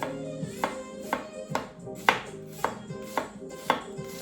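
An onion being chopped with a knife on a cutting board during fajita prep, giving about nine sharp, fairly close knife taps at an uneven rhythm, with no talking.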